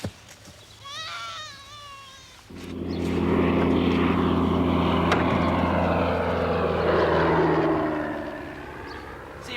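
A small propeller airplane's engine starts up and runs at a loud, steady drone, preceded by a brief high warbling sound.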